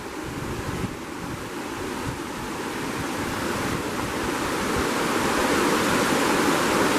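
A river rushes past a forested campsite along the Cispus, a steady broadband roar of flowing water, close and continuous, swelling slightly louder with no talking over it.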